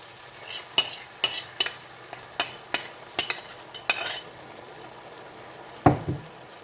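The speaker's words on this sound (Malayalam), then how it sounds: "എന്നിട്ട് നല്ലപോലെ ഒന്ന് മിക്സ് ചെയ്ത് കൊടുക്കുക" Mashed dates being mixed into cooked carrot in a pan, a series of sharp spoon scrapes and taps against the metal at an uneven rhythm over a faint sizzle, close up, followed by a single heavier knock.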